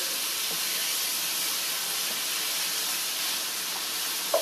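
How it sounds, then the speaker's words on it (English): Steady, dense sizzling hiss of egg roll in a bowl frying in a pan, continuous and fairly loud throughout, with no voices. "you can hear it because there is a sizzle happening here"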